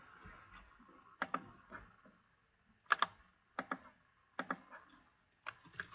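Typing on a computer keyboard: a quiet, close string of sharp key clicks in short irregular bursts with gaps between them, and no voices.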